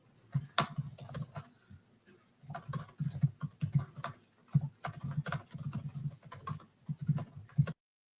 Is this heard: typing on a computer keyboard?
yes